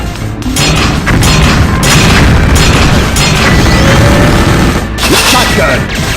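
Grenade blasts from the Metal Slug 3D video game: loud, dense booms and crashing bursts run almost without a break, overlapping near the front of the mix.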